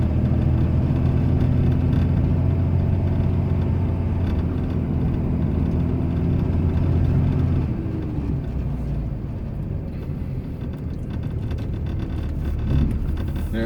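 Inside the cab of a Cummins Ram truck plowing deep, slick snow, a loud steady diesel engine drone rumbles, easing off about halfway as the truck slides and spins, with no talking.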